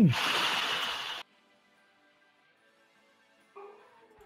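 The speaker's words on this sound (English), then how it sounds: "whose dog is it?" A dog whimpers and barks close by in a short, loud yelping burst, then goes quiet; a faint higher cry follows near the end.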